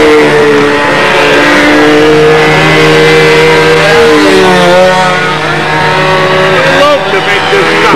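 A Bearcat model aircraft engine runs at a windy fall model-flying contest, a steady loud high-pitched drone whose tone shifts slightly as the plane circles, continuous throughout with background noise.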